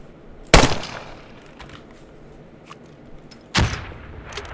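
Two separate sharp launches from a grenade launcher in the Squad military shooter, each a loud thumping report a few seconds apart against a quiet ambient background.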